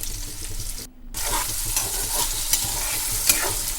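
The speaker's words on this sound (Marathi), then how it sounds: "त्यात कापून घेतलेले बटाटे परतवण्यासाठी बटाट्याच्या फोडी लाल होईपर्यंत परतून घ्यायचे आहेत" Potato pieces sauté in a pan for sabudana khichdi, giving a continuous close fry and sizzle with stirring scrapes; a very short gap cuts the sound near the start, then the frying carries on without any voice.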